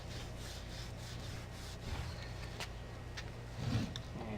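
Steady dry rubbing and scraping on the dirty wooden stock of an 1878 Martini-Henry rifle, Francotte model, caked with dirt and yak grease, a continuous close scrubbing texture with a few brief knocks, no voices.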